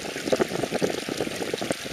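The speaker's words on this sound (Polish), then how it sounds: "Strumyk. Sobie płynie." A small stream in Iceland flowing steadily, with continuous close trickling and gurgling water.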